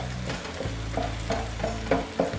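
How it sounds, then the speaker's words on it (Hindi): Egg is scrambled in a frying pan over medium-low heat, giving a continuous gentle sizzle with soft, repeated spoon scrapes as it is broken up, accompanied by a low steady hum. "हम इस तरह से ये स्क्रैम्बल एग रेडी करेंगे।"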